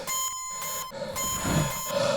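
The oxygen-critical alarm from The Martian sounds as a run of loud, evenly spaced electronic beeps in short on-off bursts, with no talk over them.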